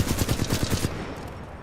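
Flatline assault rifle from Titanfall 2 firing in a rapid automatic burst of roughly a dozen loud, punchy shots, then stopping and leaving a short fading tail.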